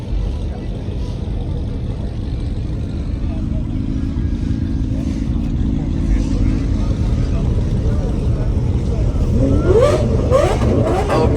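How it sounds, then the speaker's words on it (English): A car engine revs at a Miami car meet, with a continuous low rumble building in intensity toward the end, under steady talk from people nearby. "Oh, Briz is revving his"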